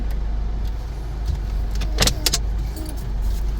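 A loud modified vehicle being ridden at a festival honoring a great naga, heard as a steady low engine rumble with a few sharp revving bursts near the middle, close and continuous throughout.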